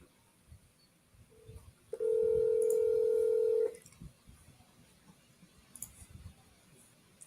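A single steady telephone tone plays as a call is forwarded, loud and unbroken for nearly two seconds, then stops, leaving faint clicks and quiet room noise.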